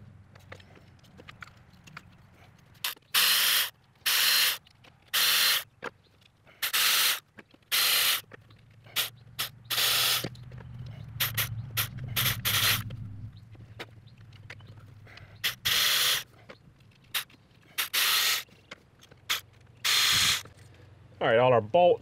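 A ratchet loosens 10 mm bolts on the engine of a 2010 Nissan Maxima with an ignition coil misfire, in loud, close bursts of clicking separated by brief pauses, over a low background hum.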